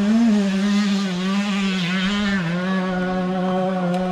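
A motorcycle engine runs steadily close by near a campfire, a loud continuous drone with slight rises and dips in pitch, heard alone without speech.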